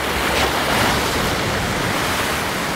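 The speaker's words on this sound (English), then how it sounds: "Just waves out of nowhere." Ocean surf breaking on a beach, a loud, steady roar of waves with wind buffeting the microphone, continuous throughout and with no voices.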